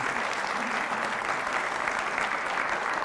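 A church congregation applauds steadily during a Spanish-language Catholic sermon on the Eucharist, the clapping dense, loud and continuous throughout with no pause.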